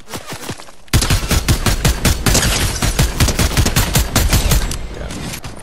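Rapid gunfire in Fortnite, a few quieter shots then a loud dense burst of repeated cracks in quick succession, close and sustained.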